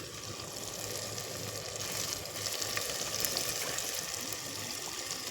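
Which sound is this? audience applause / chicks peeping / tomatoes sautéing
tomatoes sautéing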